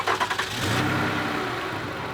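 A 2010 Toyota RAV4 V6 engine cranks and catches, a few quick starter pulses giving way to a steady idle that hums close by with no talk over it.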